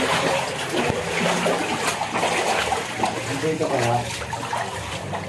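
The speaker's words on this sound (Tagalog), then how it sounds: "ito na ho yung baha sa amin" Floodwater fills a narrow residential alley after nonstop rain, a steady wash of trickling and splashing water running throughout, with a person talking over it.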